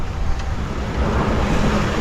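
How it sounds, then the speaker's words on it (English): Large waves break against the bow of a sailboat under way, with a constant rushing wash of water and gusting wind buffeting the microphone, loud and close. "About some large breaking waves on the front, going BAM!"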